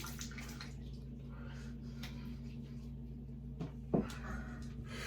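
Warm water runs steadily from a tap for a rinse, a soft continuous hiss and trickle close by, with a brief splash and faint movement near the end.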